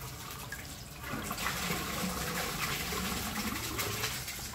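A 1953 Crane Santon toilet flushing during a clog test, a steady rushing swirl of water that swells after the first second and keeps churning at an even level.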